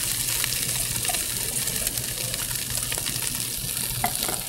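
Fresh corn kernels hit a hot pot coated with olive oil, giving a steady close sizzle with scattered small pops and crackles throughout, no voices.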